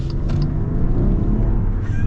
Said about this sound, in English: we'll get our full acceleration here with this Hurricane inline 6